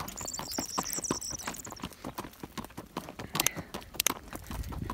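Horse hooves clip-clop at a smooth ambling gait while a rider herds sheep outdoors, a quick, even run of light hoof strikes close by, with a brief chirp near the start and no voice.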